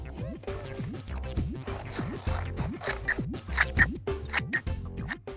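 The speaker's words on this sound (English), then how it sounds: "Now we can cut these shapes out, but be careful because scissors are sharp." Repeated snipping of scissors cutting shapes out of card, crisp rhythmic cuts over a bed of soft background music.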